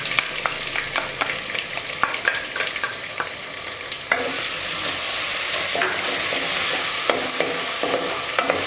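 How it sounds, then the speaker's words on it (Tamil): Chopped ginger and garlic frying in hot oil in a home kitchen, a steady loud sizzle with sharp crackles and pops, broken by a few scraping stirs of a spoon in the pan. "அந்த இஞ்சி பூண்டு இது ரெண்டுமே வந்து அந்த எண்ணெயில் பொரியட்டும்"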